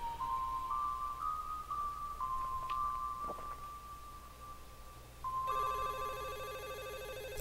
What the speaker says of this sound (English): Is that a phone?